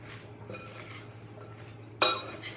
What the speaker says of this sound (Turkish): Şimdi şöyle iyice bir karıştırıyorum.